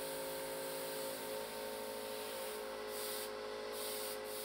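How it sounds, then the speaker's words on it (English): Aerosol spray paint hisses onto a canvas, coating it black, in a steady, continuous close-up spray that runs unbroken throughout. "the canvas is sprayed black by aerosol paint"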